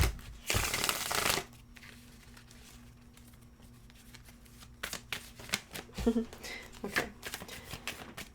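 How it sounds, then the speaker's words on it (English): A deck of tarot cards is shuffled in a loud burst near the mic, followed by scattered softer card taps and shuffles, with a brief spoken word. "I'm gonna sit up when I shuffle these."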